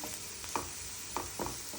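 Food frying in a pan while masala is added: a soft, steady sizzle under a few light scraping stirs, close and quiet with no talking.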